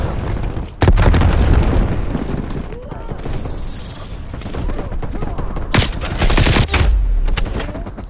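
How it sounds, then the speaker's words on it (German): Call of Duty Black Ops Cold War multiplayer combat: a loud grenade blast booms near the start, followed by steady bursts of gunfire and another heavy explosion later, with a voice speaking over the chaos. "Granate ist raus."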